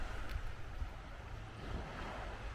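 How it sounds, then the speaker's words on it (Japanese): Ocean waves wash steadily along the shore of Naoshima island on the Seto Inland Sea, a continuous broadband rush mixed with wind across the microphone, moderately loud and without voices. "森を抜けて波の音に包まれながら歩くこの道も直島らしい時間です。"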